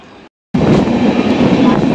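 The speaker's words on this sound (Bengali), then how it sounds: "ট্রেনটা মোটামুটি এখন পিক আপ নিয়ে নিয়েছে।" A passenger train out of Kolkata, heard from on board near Dum Dum station, cuts in after a brief silence as a loud, close, steady rolling rumble while gathering speed.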